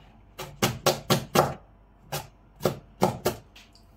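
A knife slices food in half on a cutting board while cooking octopus fricassée Provençal style, with about ten crisp, close chops in quick uneven bursts.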